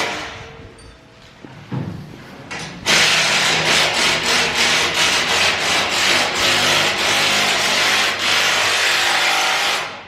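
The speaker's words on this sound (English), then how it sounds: "Those cordless impacts and drills just keep going off." Dense, continuous workshop noise of cordless impact wrenches and drills running and whirring in a UTV factory, with repeated short bursts, loud and close, no talking.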